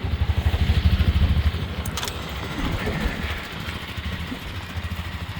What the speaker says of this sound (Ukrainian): Перша передача. Дивіться, без газу. Все, він їде.